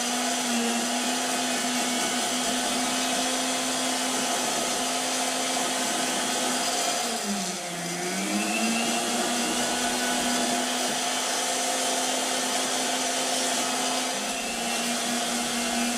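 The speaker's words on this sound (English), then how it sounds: "Add a little more polish to the wheel." A polishing wheel buffs an electric guitar neck with a loud, steady motor drone and high whine. Midway the pitch dips briefly as the neck presses against the wheel, then recovers.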